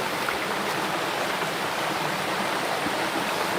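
Steady broadband rush of a river flowing, where shrimp traps are being set, continuous and fairly loud with no talk over it.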